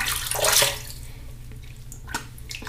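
Water runs and splashes close by while shaving soap is rinsed off a face, a louder gush at first settling into softer trickling and a few drips.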